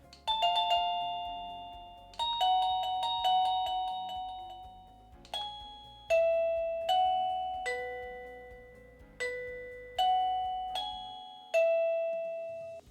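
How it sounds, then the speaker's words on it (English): A wireless doorbell chime cycles through several of its selectable melodies, each a clear ringing electronic ding-dong or short tune of struck bell-like tones that fade, sounded alone with brief gaps between patterns. "The chime also has various different sounds to choose from,"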